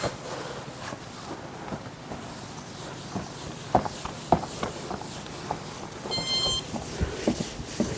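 A short burst of electronic beeps from a refrigerator keypad, heard among soft scraping and wiping sounds of stainless steel being cleaned nearby.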